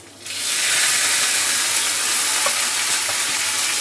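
Curry leaves and chopped chili hitting hot oil already crackling with cumin and mustard seeds, a loud, sudden burst of sizzling that settles into steady close frying hiss with faint pops.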